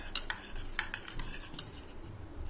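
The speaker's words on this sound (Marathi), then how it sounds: "शेवटी घे स्पून छान असं मिक्स करायचं" A spoon clinking and scraping in a bowl while mixing soybean chilli with ginger-garlic paste, a quick run of close metallic taps and stirring scrapes, no talk.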